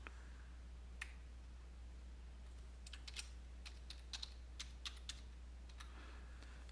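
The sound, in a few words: typing username and password on computer keyboard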